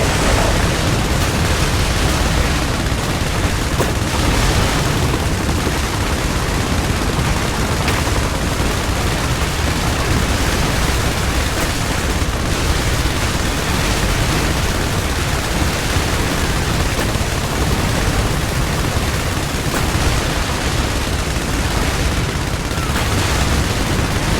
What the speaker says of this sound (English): Artillery holding. On full combat power. Fire! Fire! Airstrike approach.